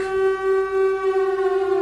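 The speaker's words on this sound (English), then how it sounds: "The doors open again. Sirens are on." A siren sounds as one steady, unwavering tone, loud and close, held continuously with no voices over it.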